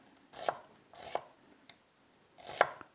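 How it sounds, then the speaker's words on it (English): Onions being sliced with a knife into thin rings a couple of millimetres thick on a board, three separate close chopping strokes with pauses between them, the last one loudest. "So cut your onions."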